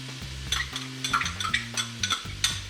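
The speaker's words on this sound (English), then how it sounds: "1 pound of meat, and I'm adding in the celery." Ground meat and celery cooking in a pot, with a spoon scraping and stirring in bursts over a steady low hum and faint sizzle.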